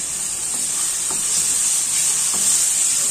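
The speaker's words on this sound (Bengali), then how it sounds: "পেঁয়াজের রসুনটা একসাথে করে ভালো করে মিক্স করে নিন।" Onion and garlic paste frying in a pan while being stirred, a loud, continuous close sizzle with faint scrapes of the spoon.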